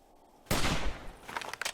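Gunfire in the video game 7 Days to Die, a sudden loud burst of shots fired in quick succession, then a ragged string of sharper single reports trailing off, with no talking.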